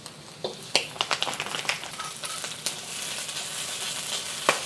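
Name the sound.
stir-frying green beans with belacan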